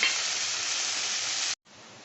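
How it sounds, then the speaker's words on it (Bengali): Paneer fried rice frying in a pan over raised heat gives a loud, steady, hissing sizzle that cuts out abruptly near the end, then returns much more faintly. "এটা একটু আঁচটা বাড়িয়ে দিয়ে একটু ভেজে নিই। ভেজে আর একটু ভাজা হোক"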